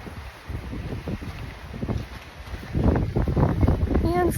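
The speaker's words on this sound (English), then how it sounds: "Just a little bit windy" Wind blowing outdoors at the Little Mermaid statue, a steady broadband rush buffeting the microphone that swells louder toward the end, with no clear talking.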